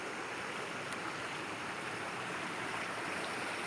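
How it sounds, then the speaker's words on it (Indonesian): A small river stream flows beside a villa in Cisarua, Puncak, making a constant even rush of running water, moderately distant and unbroken, with no voices. "Ada sungai kecil, teman-teman. Sungai yang mengalir"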